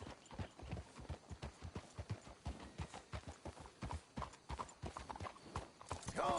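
Horses clip-clopping in Red Dead Redemption 2, a steady run of close hoof strikes on the ground with a whinny near the end and some quiet talk under it.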